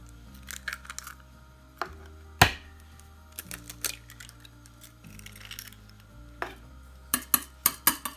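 Two eggs being mixed in a bowl, with sharp clinks and taps of utensil against the bowl in an uneven rhythm, growing quicker and denser toward the end, close up and with no talk.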